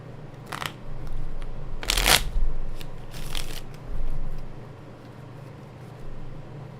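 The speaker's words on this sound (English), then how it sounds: "Let me shuffle that up again." A deck of cards is shuffled near the microphone with a few quick riffling bursts, one sharp and loud, over a low background hum.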